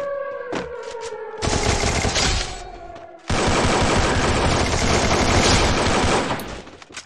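Rapid bursts of automatic gunfire from a mobile battle-royale shooter, two long loud volleys of sustained shots close up with a short pause between, after a few brief tones at the start.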